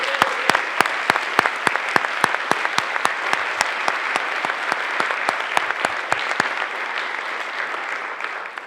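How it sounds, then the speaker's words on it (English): An audience at a Mu Kappa Delta chapter National Honor Society induction ceremony claps in a dense, lively round of applause that thins out and fades toward the end. "Congratulations, you deserve a round of applause."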